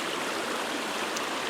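River water flows steadily over rocks in the autumn Lake District, a continuous close rushing wash of stream noise with no talking.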